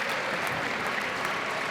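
Spectators applaud in a brief, steady burst of clapping during the men's final of the P2000 UurbanPadel Nantes padel tournament.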